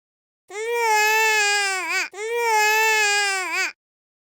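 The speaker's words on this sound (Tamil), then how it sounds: "உங்களுக்கு ஏதும் அழுகை சத்தம் கேட்டதா?" A young child cries in a Tamil Dora cartoon: two long, loud, wailing sobs, the first breaking off briefly before the second begins, each ending in a wavering whimper.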